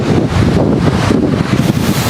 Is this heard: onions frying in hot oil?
no